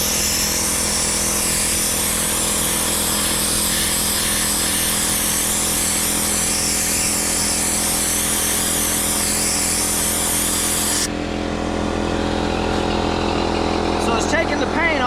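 A mini sand blaster strips paint and rust from a metal surface, giving a loud, steady broadband hiss that runs nearly unbroken before shifting in tone near the end.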